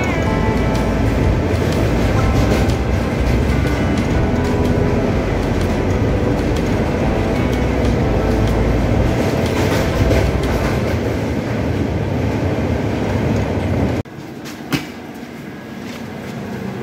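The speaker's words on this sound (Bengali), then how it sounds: "এটা একটা রেল লাইনের ব্রিজ, যেটাতে আমরা যাচ্ছি এখন ট্রেনে চড়ে।" Heard from aboard the Kanchanjunga Express between Siliguri and Guwahati as it crosses a railway bridge: a loud, continuous rumbling roar with rhythmic clatter that suddenly drops quieter near the end, with one sharp clank after.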